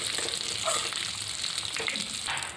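Small fish sizzle and crackle softly in a pan of hot oil, a continuous light frying hiss with occasional stirring clinks.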